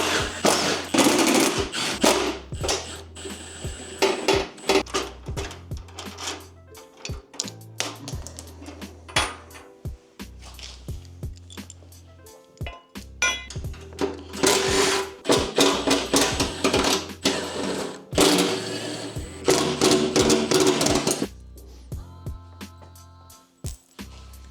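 Tools working to remove the brake assembly from a go-kart, with bursts of rapid rattling from a power tool and metallic clanks of parts, loud and close, with no talk.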